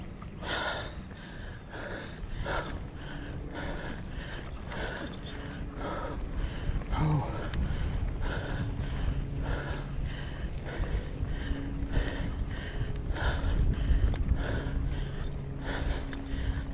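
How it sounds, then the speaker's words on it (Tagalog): Heavy, ragged panting from a cyclist after riding uphill on a bike trail, rhythmic gasping breaths repeating close to the microphone over wind and outdoor noise. "Ay, hingal."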